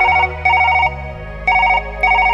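A telephone rings in repeated electronic bursts, each a warbling tone separated by short gaps, loud and close over a low, steady musical hum.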